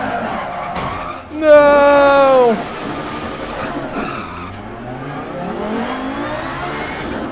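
Rally car in the Dirt Rally video game skidding on a gravel stage after a handbrake pull, a loud tire-scrub squeal lasting about a second over steady engine drone, with a short exclamation and talk around it.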